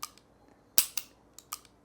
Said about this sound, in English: pulling this hammer back is like butter